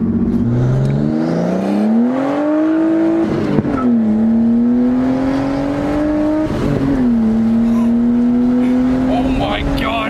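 A sports car engine drones and revs up in pitch several times, sustained and loud, with people talking over it; the exhaust pops are not distinct.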